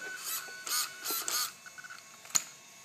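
Short high-pitched electric whirs from an RC car's steering servo on a Mini 8ight buggy, which fails to turn, buzz in a few quick bursts, close and fairly quiet, followed by faint ticks and a sharp click.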